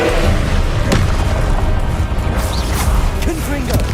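Spell impacts in the Hogwarts Legacy wizard combat game: booming blasts, crashes and thuds in quick succession, loud and dense, with a voice calling out over the action.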